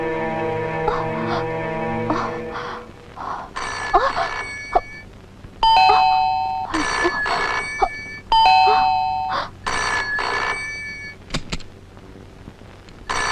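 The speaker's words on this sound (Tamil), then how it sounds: "காலிங் பெல் அடிச்சிட்டே இருக்கேன்" Electronic calling bell of a house rung again and again, bright two-tone chimes repeating in quick bursts with short gaps, fairly close and loud, with faint voices in the background.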